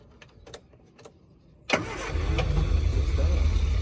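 An old car that had sat for about 30 years cranks and starts cold, then settles into a loud, steady idle close by. The front core plug is leaking, and faint clicks come before the start.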